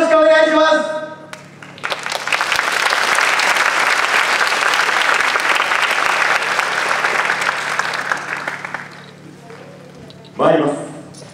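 A crowd at the Inuyama Yogeisai dance festival in 2022 breaks into loud, sustained applause for a university dance team for about eight seconds, with a voice speaking just before and again as the clapping dies away.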